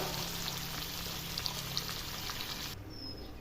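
Eggplant bonda frying in hot oil gives a steady, close hiss and crackle of sizzling that cuts off abruptly near the end.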